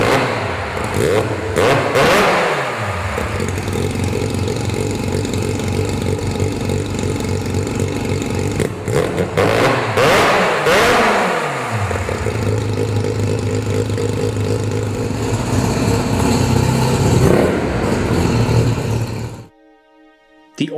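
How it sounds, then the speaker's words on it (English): A Star Mazda race car with a rotary engine fires up, then revs repeatedly in loud rising and falling bursts between rough idling, recorded close. The engine cuts off abruptly near the end. "So, you want to hear this thing fire up?"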